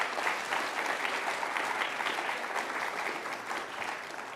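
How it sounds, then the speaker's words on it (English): A symposium audience applauds its panelists with sustained, dense clapping from a full room, steady and fairly close for the whole stretch. "a round of applause to our panelists,"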